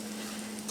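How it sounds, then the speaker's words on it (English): Cornbread batter sizzles steadily in a hot pan, a close, continuous frying hiss with a faint hum underneath. "let's pour that batter right in there. Hear that sizzle?"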